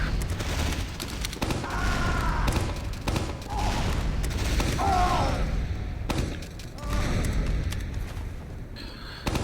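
The Demoman's grenades explode in a video game as a dense string of loud booms and thuds, layered with other busy in-game noise.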